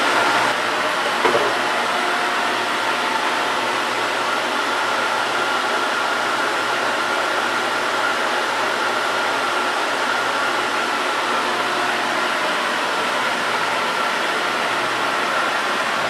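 A stand mixer with a hook or paddle works gluten-free oat and cranberry cookie dough, giving a steady, loud motor whir that runs unbroken and unchanged from start to finish, with no voices.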